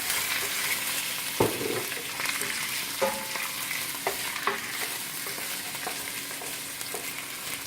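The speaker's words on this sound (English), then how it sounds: "I'm going to caramelize the sausage." Sausages fry in a hot pan for spaghetti dinner with a steady sizzle, and occasional sharp clinks and scrapes of a utensil turning them stand out over the constant hiss.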